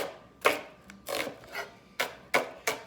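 A knife slices through onions on a wooden cutting board in about seven distinct, close strokes at an uneven pace, each a crisp scraping chop.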